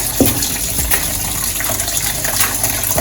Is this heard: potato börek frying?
no